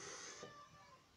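A pet cat gives a short, faint meow, soft and somewhat distant, heard alone in a quiet room.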